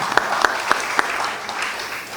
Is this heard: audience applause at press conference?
yes